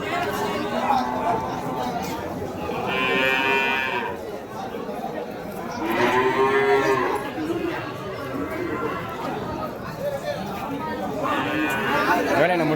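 Cattle lowing at an open cow market in Vaniyambadi, several drawn-out moos rising at intervals over a busy crowd murmur and nearby talking.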